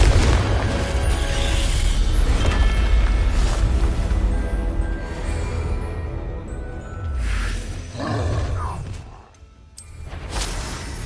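Confringo fire-spell blasts in the Hogwarts Legacy video game go off as a dense run of booming explosions with whooshes and debris, loud and continuous, then thinning out near the end.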